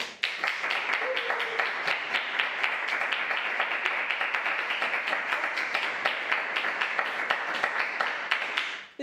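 Steady, dense applause from a large concert audience fills the space, many hands clapping continuously at an even level throughout.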